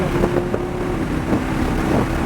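A GT4-class race car accelerates on the Sonoma track, its engine a steady drone with some wind rush, while an instructor's voice comes through intermittently.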